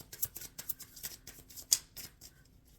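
Quick papery riffles and snaps of tarot cards being shuffled up close, in short irregular bursts, alone and fairly quiet.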